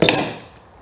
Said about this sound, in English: we just put the wrench on there and loosen it